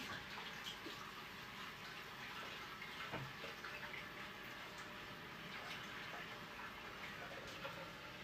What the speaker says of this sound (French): Je vais mettre de l'eau chaude dedans